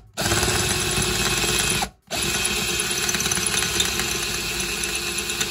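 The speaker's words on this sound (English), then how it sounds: "I've had to resort to using a drill to remove the screw head." A power drill bores out a screw head on a PS3 Slim console, a loud close whirring grind that runs for nearly two seconds, cuts off briefly, then resumes steadily with a slight rattle.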